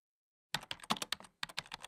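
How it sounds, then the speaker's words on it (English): Computer keyboard typing in a Minecraft animated series: after a half-second of silence, a rapid burst of close, crisp key clicks, a short pause, then another flurry of keystrokes, with no voices. "Oh, my keyboard."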